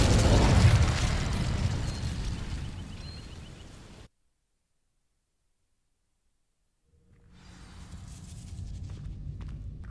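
An Incendio fire spell cast in Hogwarts Legacy: a loud, close whooshing fiery burst that fades into silence, followed by a quieter rumble returning.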